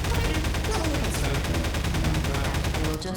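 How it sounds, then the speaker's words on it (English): Rapid automatic gunfire from Half-Life 2 weapons aimed at GLaDOS in the game Portal, a dense, loud, continuous burst of shots lasting about three seconds. "You can defeat GLaDOS using Half-Life 2 weapons"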